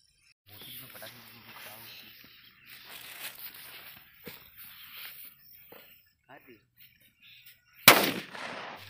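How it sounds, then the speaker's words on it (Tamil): After several seconds of quiet shuffling and faint voices, a single thick 4-inch Valangaiman nattu vedi special bundle firecracker bursts near the end in one sharp, very loud bang. "4 இன்ச்லே வந்து ஸ்பெஷல் கட்டு வெடி. ஸோ இந்த வெடியோட டெஸ்டிங் எப்படின்னு பார்க்கலாம்."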